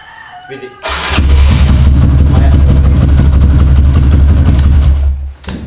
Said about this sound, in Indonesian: Sekarang kita coba starter berulang-ulang.